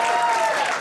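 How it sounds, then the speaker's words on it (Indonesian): A church audience at a Christmas gathering claps for a performer, a brief, dense burst of many hands close by, with a faint tone ringing under it. "Sekarang khusus tepuk tangan buat Ivan"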